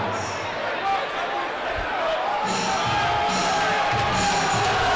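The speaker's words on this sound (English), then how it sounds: "the Black Bears fan who's getting ejected is hyping the crowd up, as you can hear on the crowd mics" An ice hockey crowd at a Binghamton Black Bears game against the Columbus River Dragons, a broad steady roar of cheering and shouting that swells slightly toward the end, with voices mixed in.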